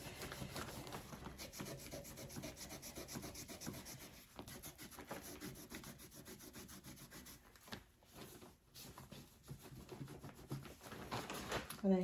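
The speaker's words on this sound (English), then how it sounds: "all I'm going to do is just rub the sides just a little bit, just to give it a little bit more distress" Sandpaper or a rough pad rubbing the edges of small painted wooden houses to distress the finish, a continuous close scratchy scrubbing in quick back-and-forth strokes with brief pauses.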